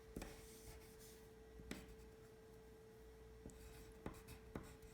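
A pen or colored marker writes a short Earth Day message on paper in a children's drawing lesson: faint, close scratchy strokes with a few sharper taps as letters are formed, quiet and without talk.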